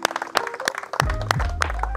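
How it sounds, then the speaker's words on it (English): A small group of anglers at a carp fishing match at Mill Lodge claps briefly, a few sparse, sharp hand claps over a low rumble of wind. "So a massive round of applause to those."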